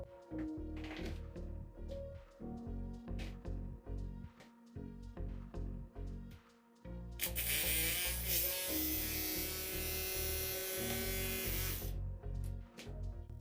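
A small electric motor runs at 6.5 volts with a steady buzzing whir that starts and stops in short bursts, then gives way to a longer, louder, harsher stretch of running before it stops again.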